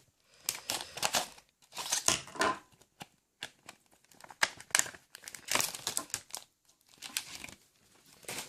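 Crinkling plastic blister packaging being torn and crumpled open around a Pokémon Plasma Storm booster pack, in close, irregular bursts of crackling and ripping with brief pauses between.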